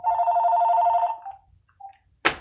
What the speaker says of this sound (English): there's always someone calling the house phone